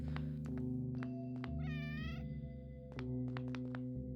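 A cat meows in the video game OneShot, one clear mid-length meow standing out over looping game music and short blips.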